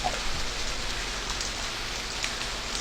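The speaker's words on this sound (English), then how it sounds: "it's notable that it's raining here" In the video game Myst III, steady rain patters on surfaces in a soft, even hiss, with a low rumble underneath and no voices.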